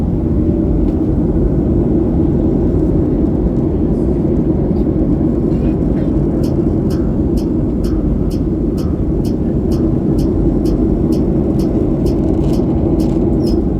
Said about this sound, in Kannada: ಸೀದಾ ಲ್ಯಾಂಡಿಂಗ್ ತೋರಿಸ್ತೀನಿ ದಿಲ್ಲಿ ಒಳಗೆ.